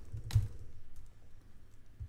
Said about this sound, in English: We're typing in our email